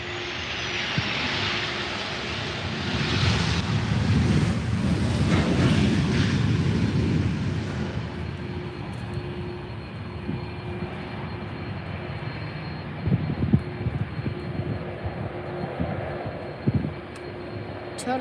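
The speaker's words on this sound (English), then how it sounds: "So here comes the Ryanair 737." A Ryanair Boeing 737 passes at Faro Airport, engines swelling to a loud, close roar with a whining tone, then fading into a lingering rumble as a steady hum and light background sounds remain.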